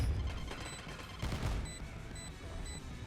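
Rapid gunfire from a weapon in Valorant, a tactical shooter video game: dense, loud bursts of shots throughout, with a heavier volley midway and a thin in-game tone recurring near the end.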